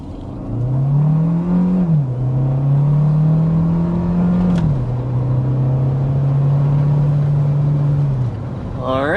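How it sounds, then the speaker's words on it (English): A 2025 Hyundai Tucson hybrid cruising at 60 mph gives a steady, loud cabin drone of engine and road noise with a small pitch rise and dip early on, running alone without talk. "that was 60 miles per hour with the hybrid version of the Tucson"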